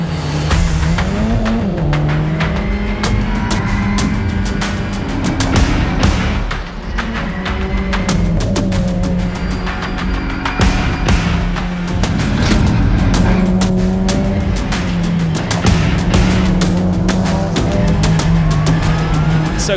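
TCR touring race cars racing at Slovakia Ring, engines roaring loudly and continuously with shifting pitch as several cars pass close by, steady and dense throughout.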